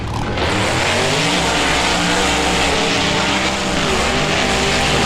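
Monster trucks roar off the start line in the BeamNG video game, a loud, dense engine drone that swells and holds without a break for several seconds.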